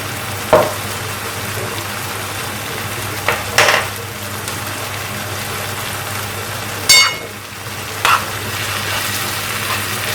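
Lasagne sauce fries in a pan with a low continuous sizzle, while a spoon stirs it with a few sharp scraping clacks against the pan; no voices.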